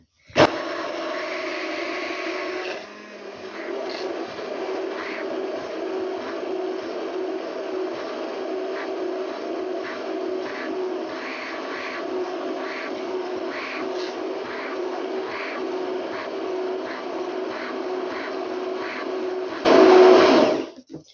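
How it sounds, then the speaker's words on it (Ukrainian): A kitchen blender whirs loudly and steadily for about twenty seconds, emulsifying lean mayonnaise, its motor pitch shifting briefly near the start and again at the end. "тому що блендер, гляньте, як він голосно працює"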